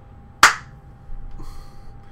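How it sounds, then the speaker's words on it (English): A single sharp hand clap, close and loud, cracking out once and fading quickly into a quiet background. "So when I clapped,"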